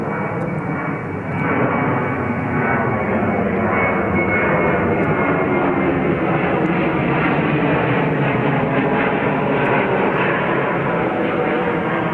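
An American Airlines jet airliner at JFK airport gives off a loud, sustained engine roar that holds steady throughout, with a faint rise at the start.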